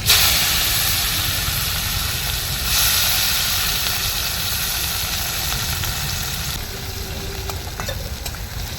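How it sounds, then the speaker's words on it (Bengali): Chopped onion sizzles loudly in hot oil with dried red chilli, cinnamon, cloves, cardamom and two bay leaves, a steady close hiss and crackle throughout with occasional stirring and no talking. "তেল গরম হয়ে আছে এবার দিলাম শুকনো লঙ্কা দিলাম দারচিনি লবঙ্গ এলাচ দিলাম দুটো তেজপা এবার দিয়ে দিলাম কুচানো পেঁয়াজ"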